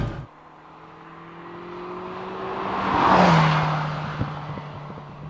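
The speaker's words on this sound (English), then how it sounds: "The exhaust is certainly a lot more free-flowing, and I'm hoping you're getting a little bit of it today." A 1976 Ferrari 308 GTB race-prepared road car with a free-flowing exhaust drones past, its engine note swelling as it nears, peaking loudly mid-clip with a passing pitch shift, then fading as it moves away.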